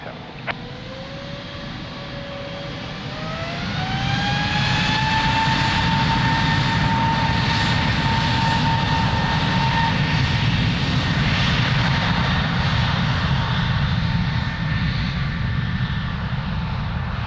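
A Boeing 787 Dreamliner takes off at Lisbon Airport, its engine roar swelling into a loud, steady whine that holds as the jet climbs away.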